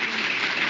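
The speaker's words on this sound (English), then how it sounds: "So please give Kudzi a very loud round of applause as well" An audience at a women's awards event applauds steadily, a dense, even patter of clapping that fills the room with no voices over it.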